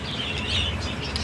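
Chattering parakeets kept in a home breeding setup give soft, continuous high tweets with a few brighter calls at a modest, steady level, with nobody speaking.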